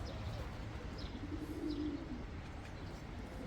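Crested silver pigeons cooing in a coop, a soft low coo rolling through the middle of the clip over a constant background hum, with faint chirps from other birds.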